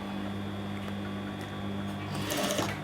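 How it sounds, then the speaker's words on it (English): Sewing machine running steadily while stitching a gathered seam: a continuous close mechanical hum and whir with a constant tone, growing slightly busier and louder near the end. "turn on the machine, and we're ready to start sewing"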